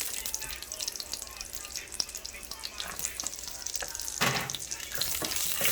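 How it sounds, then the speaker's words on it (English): Onion fries in a pan for tacos dorados, a bright continuous sizzle with occasional stirring clicks and a louder hissing surge near the end. "you're gonna go put in the tomato and the onion. You're gonna put the onion first."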